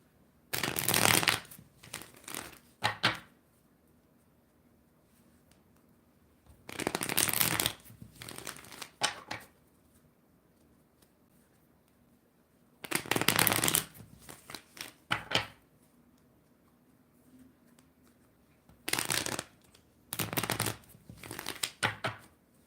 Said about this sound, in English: I'm seeing some cards coming in my right hand as I'm shuffling here